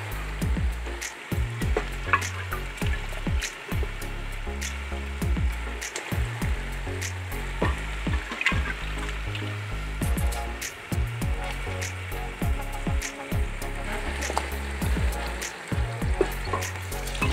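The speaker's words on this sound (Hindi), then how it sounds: "तो अभी मैं डालने लगा हूँ इसमें गोश्त।" Mutton goat meat frying loudly in a karahi pan, a dense continuous sizzle with crackling spatter throughout and occasional stirring clatter, close and steady with no talk.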